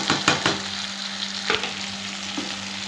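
Green pea masala with pepper powder, turmeric, fennel powder, chaat masala and garam masala sizzles in a pan, a continuous close frying hiss broken by a few scraping stirs of a spoon, no talk.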